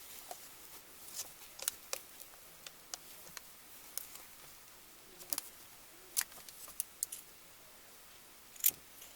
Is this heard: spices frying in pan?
no